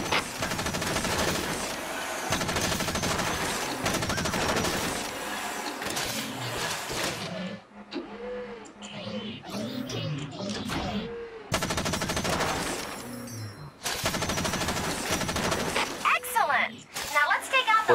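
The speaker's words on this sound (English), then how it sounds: "Remember to fire your machine gun in burst." Mech machine gun fire from the game Front Mission, loud repeated bursts with short pauses between them, under intermittent talking and game voice lines.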